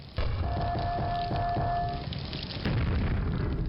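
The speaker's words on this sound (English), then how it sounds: "Wonder if I need an explosion." A video game explosion booms loudly with a deep, rumbling body, followed by a second heavy burst and sustained low roar, with a faint tonal hum running through it.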